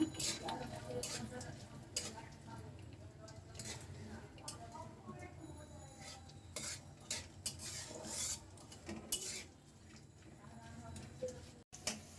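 Cashews, almonds and raisins are lightly fried in a pan, giving a soft sizzle beneath frequent metal spoon clinks, scrapes and stirring knocks on the cookware, fairly quiet and irregular.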